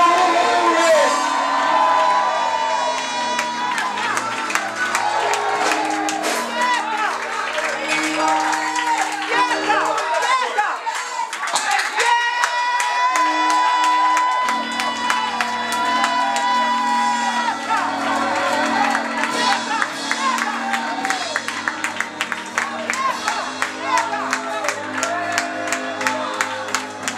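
A church congregation shouts, whoops and cheers in praise, a loud, continuous crowd roar that swells and surges over about half a minute.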